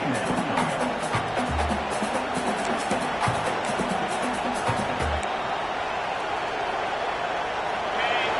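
Stadium crowd at an LSU vs Texas college football game, a loud, sustained roar of cheering and noise from a large crowd during a red zone defensive stand, with a commentator's voice audible under the din.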